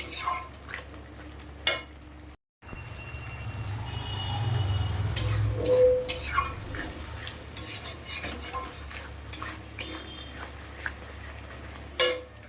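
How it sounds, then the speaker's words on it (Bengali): Spice paste for a mustard prawn curry being stir-fried slowly over low gas, with a utensil clinking and scraping against the pan over a soft sizzle, quiet and close, with a brief silent gap. "এবারে গ্যাসটা একটু কম করে দিয়ে মশলাটা ধীরে ধীরে কষাবো।"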